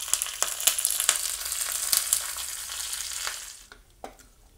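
Hot tempering poured into a ready chickpea curry, a steady bright sizzle with scattered ticks and pops that fades out toward the end, followed by a soft clink.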